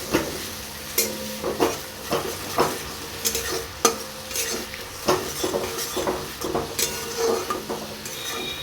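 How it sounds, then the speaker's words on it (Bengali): A spice mixture with a little sugar is stirred and sautéed in oil in a pan, giving a steady sizzle broken by repeated scraping strokes of a spoon against metal, close and clear with no talking. "এইগুলো সব একসাথে পাঁচ মিনিটের মতো কষিয়ে নেবো"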